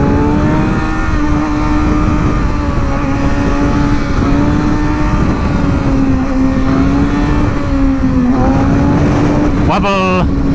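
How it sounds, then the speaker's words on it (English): Cars pass on the road beside a rider on a motorcycle, their sound mixed into the loud steady engine drone and wind, with a brief rising whoosh near the end. "And there's cars."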